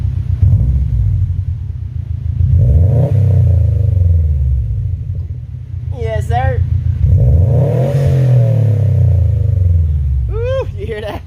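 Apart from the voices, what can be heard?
Subaru WRX STI with Invidia R400 exhaust revving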